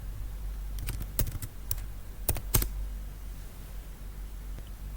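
Command typed on a computer keyboard in a travel booking terminal, a handful of sharp close key clicks in an irregular burst over a low steady hum, then quiet.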